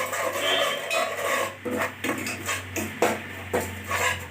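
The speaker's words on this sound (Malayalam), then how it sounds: "കായപ്പൊടി, കടുക് പൊടിച്ചത് ഇവ ചേർത്ത് നന്നായി ഇളക്കുക." A spoon scrapes and clinks against a metal pot while powdered fenugreek, asafoetida and crushed mustard are stirred into a pickle mix, giving irregular close scraping strokes with sharp knocks.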